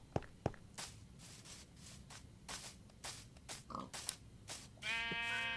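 Sheep in the video game Minecraft bleat in short repeated bursts amid game sound effects, with a brighter, harmonic bleat near the end; no voices are heard.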